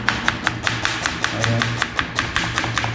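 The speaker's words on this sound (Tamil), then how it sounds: "இப்போ மீன் குழம்பு கட் பண்ணிகிட்டு இருக்கிறோம்." Knife blade striking a cutting board in a steady, rapid rhythm while sardines (mathi fish) are cut for a village-style fish curry; about a dozen crisp, close chops, heard alone with no talk.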